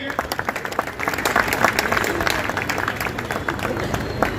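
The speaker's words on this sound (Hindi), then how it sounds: "हमारे एक बार जोरदार तालियां बजाइए" Audience at a Hindi kavi sammelan poetry recital in Patna breaking into applause, first scattered claps that swell into loud, dense clapping from a large crowd, with some murmuring voices mixed in.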